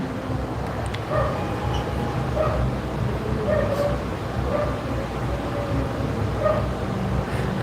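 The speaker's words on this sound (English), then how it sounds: "There, the dog just barked." A dog barks repeatedly in the distance in a Philippine barangay, short yips spaced every second or so over a steady background hum of neighborhood noise.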